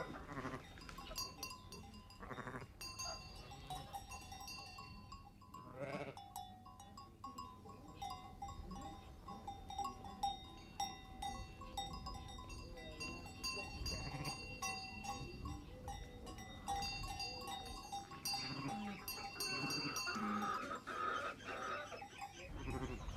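Ewes with their newborn lambs on a farm, bleating on and off at varying distances, with occasional clanks like a cowbell and faint birdsong in the background.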